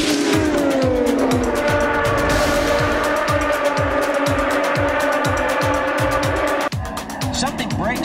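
Race cars at Watkins Glen during the Budweiser at the Glen: loud engines roar as the cars pass close in a rapid, rhythmic string, with some tire squeal.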